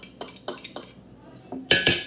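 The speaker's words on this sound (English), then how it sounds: "I'm just gonna mix it with the fork. So it's basically whisked." A fork beats egg mixture in a bowl at home, its metal tines clinking against the dish in quick bursts of scraping taps with short pauses between them.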